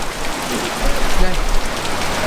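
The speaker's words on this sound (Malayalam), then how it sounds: "നല്ല മഴ പെയ്യുന്നുണ്ട്" Heavy rain pouring steadily in a village setting, a loud dense hiss of drops hitting surfaces that lasts the whole stretch and swells briefly in the middle.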